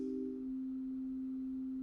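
A pure sine wave from a live-coding oscillator, tuned exactly to a MIDI note frequency, sounds as a single steady electronic tone held throughout, with a second brief tone fading out at the start.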